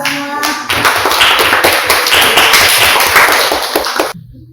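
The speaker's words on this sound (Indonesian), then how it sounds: "Tepuk tangan buat kita semua." Classroom applause after a group exercise: a loud, dense burst of many hands clapping together for about four seconds, then stopping abruptly.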